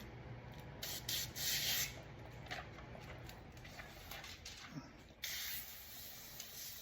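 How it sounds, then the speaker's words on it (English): Soft rubbing and hissy peeling noises come in short bursts, close and fairly quiet, over a low steady background hum. "Peel the film."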